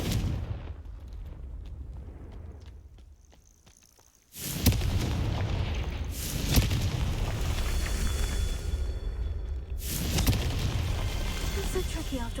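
Confringo blasting curse explosions from Hogwarts Legacy, a sudden loud booming burst followed by sustained rumbling blast noise, with a second burst near the end, over game ambience.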